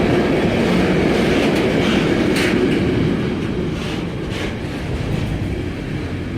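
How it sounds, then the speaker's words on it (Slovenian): A freight train bound for the Port of Koper rolls past close by in a loud, continuous rumble of wagons and wheel clatter that eases slightly toward the end. "Ja, to je vlak za Koper, to je vlak za Luko Koper."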